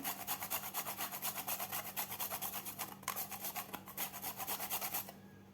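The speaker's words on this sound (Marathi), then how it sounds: "थोडंसं आपल्याला जायफळ यामध्ये खिसून घालायचं आहे" Whole nutmeg rasped against a grater for a sweet jaggery-coconut puri filling: quick rhythmic scraping strokes, close and steady for about five seconds, over a faint low hum.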